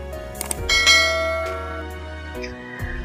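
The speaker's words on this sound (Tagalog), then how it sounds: "pindutin ang notification bell" A bell rings out with strong sustained low tones and a bright shimmering strike near the start, decaying slowly, then a second softer strike near the end; no talk.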